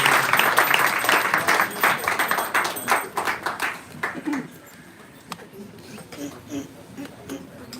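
An audience at a Hare Krishna kirtan gathering applauds, loud crowded clapping for about four seconds that thins to a few scattered claps in a reverberant hall.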